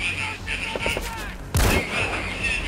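Sniper rifle shots in Metal Gear Solid V: The Phantom Pain, a few sharp gunfire bursts with one loud close report in the second half, mixed with game ambience.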